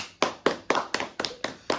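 Seven or eight sharp hand claps in a steady, fairly quick rhythm, close and crisp, with no talking.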